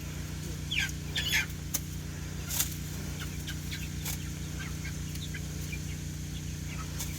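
Chickens cluck in short, scattered calls over a steady low hum, sounding fairly close, with no talk during the calls.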